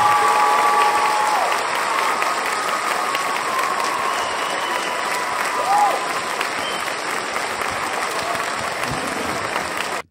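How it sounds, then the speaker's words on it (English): Audience applauding a speaker being introduced at a spiritual talk, a dense, sustained round of clapping from a crowd that holds steady for about ten seconds, with a brief swell near the middle before cutting off. "And let's have a big Earthkeeper round of applause for my brother, John Van Auken."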